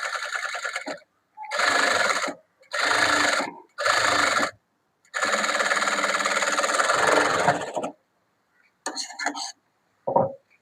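Sewing machine stitching the neckline of a blouse, in several bursts of steady whirring separated by short pauses, with a longer run in the middle and faint brief sounds at the end.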